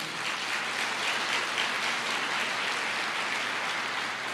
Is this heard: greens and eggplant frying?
no